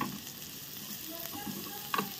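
Capsicum and onion sautéed with chilli flakes and black pepper sizzle softly in a pan while a utensil stirs them, with a brief sharper scrape near the end.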